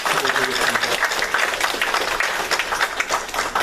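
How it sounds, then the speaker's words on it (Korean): Church congregation applauding during a Sunday worship service, a dense, steady wash of many hands clapping together throughout, with murmuring voices mixed faintly underneath. "우리 8구역 식구들 존경하는 마음으로 박수 한번 해보겠습니다"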